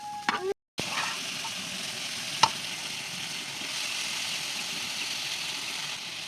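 Spiny gourd (kakrol) sautéing with spices in a pan, a steady broadband sizzle running nearly throughout with one short clack of a utensil partway, close and moderately loud with no talk.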